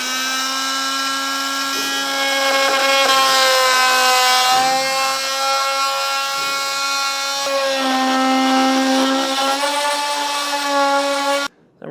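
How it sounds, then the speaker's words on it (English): A Dremel-style oscillating multi-tool trims safety chain loop openings during a base plate install on a 2024 Chevrolet Silverado, a steady high-pitched buzzing whine with rich harmonics that shifts pitch slightly under load, then cuts off abruptly. "I'm just using the Dremel again, or the multi-tool again,"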